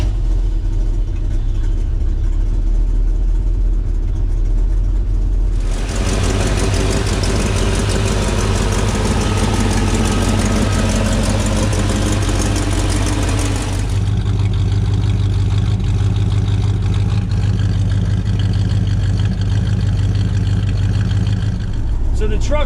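A 1948 Chevrolet 3600 pickup with a modified 350 V8 idles steadily under a voice, while a radiator fan whooshes on loudly for several seconds in the middle before dropping back to the low engine drone.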